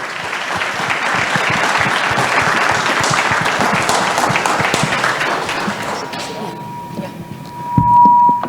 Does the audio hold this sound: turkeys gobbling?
no